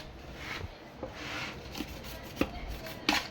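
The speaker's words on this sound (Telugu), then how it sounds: "ఇట్లా మళ్ళీ బాగా బ్రష్తో రుద్దండి." A brush scrubs a mixer grinder jar in a home kitchen, giving a soft continuous rubbing rasp with a few sharper scraping strokes and taps, close and fairly quiet, with no talking.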